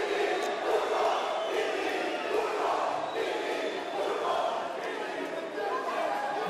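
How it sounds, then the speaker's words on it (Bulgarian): Basketball crowd at a Lukoil Balkan home final against Levski, steady dense shouting and chanting from many fans filling the arena, loud and continuous with no clear talk above it. "Много приятни подвиквания от страна на публиката на Балкан"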